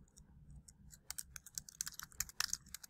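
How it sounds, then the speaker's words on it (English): Rapid, uneven computer keyboard typing, close and fairly quiet, with clustered clicks of keys over a low room hum and no voices. "Doesn't like it when I type and record at the same time"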